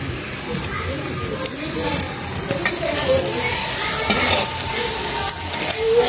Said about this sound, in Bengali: এই যে আমি যে বড়াগুলি ভাজতেছি, চুলার জালটা একদম কমাই দিছি